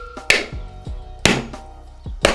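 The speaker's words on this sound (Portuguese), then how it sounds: "Você vai pegar um martelo ou um facão com a parte de trás dele, a parte traseira, e ó, só martelar." The back of a machete hammers a dry coconut to crack it open, giving three sharp, close knocks spaced about a second apart, each with a short hollow ring.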